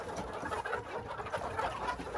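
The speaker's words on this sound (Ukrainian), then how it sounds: "Це старі курки, які були." Several Lohmann chickens cluck and murmur together continuously, close and fairly quiet, with overlapping soft calls.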